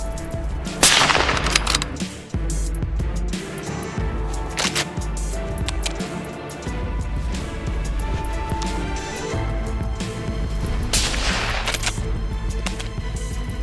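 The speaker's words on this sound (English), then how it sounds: "I raised my rifle, my heartbeat racing. Bang!" Sharp rifle gunshots crack out a couple of times over a dense, rumbling background, each blast sudden and loud with a brief ringing tail, during a wild boar hunt.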